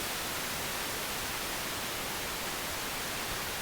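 Steady pink noise from a synthesizer oscillator, a continuous even hiss with softened highs, heard alone at a constant low level.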